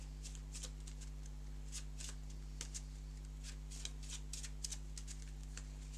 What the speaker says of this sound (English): first we'll have to shuffle the deck